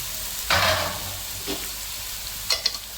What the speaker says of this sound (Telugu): చక్కగా అన్ని కలిసేటట్టు తిప్పేసుకున్నాయండి